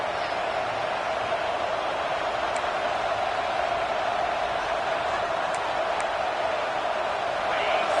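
A home crowd at a football game in Oregon gives off a dense, constant roar as the defense tries to get off the field on third down, holding steady for the full eight seconds.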